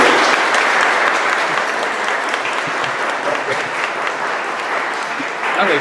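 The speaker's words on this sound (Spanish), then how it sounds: "un aplauso para ti" An audience at a lecture on the Inca nobility applauds steadily for several seconds, the clapping dense and even and easing slightly toward the end.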